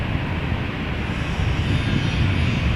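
An EasyJet airliner takes off at Amsterdam Schiphol with a loud, close engine roar. The rumble swells slightly as the aircraft climbs away, and no one speaks.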